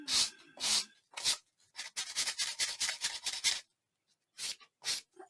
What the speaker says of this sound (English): If I can, I'm going to go use my sanding block.